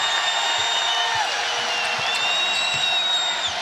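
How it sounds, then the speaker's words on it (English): Crowd noise fills a basketball arena during a women's college game between Iowa and Iowa State, a dense steady roar of many voices with faint squeaks and background tones. "Crowd trying to help them out."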